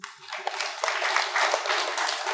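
An audience at a spiritual question-and-answer program claps for Patriji in a short burst of applause, moderately loud and rising quickly before carrying on briefly.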